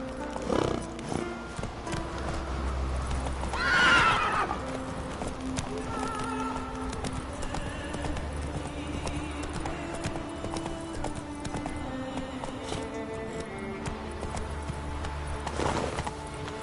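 A horse gallops in a video game with steady clip-clop hoofbeats throughout and a loud neigh near the start, set against a continuous game soundtrack.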